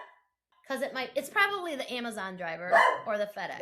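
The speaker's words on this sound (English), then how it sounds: "That's my dog." A dog barks repeatedly indoors, loud and close, its bursts overlapping a person who keeps talking.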